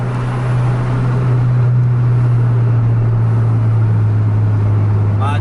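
A long-distance bus on the Trans-Sumatra highway runs at full throttle, its engine droning loud, steady and low for the whole stretch with constant road noise.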